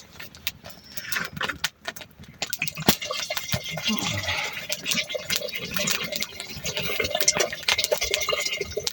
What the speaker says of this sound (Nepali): पानी हाल्नु पर्यो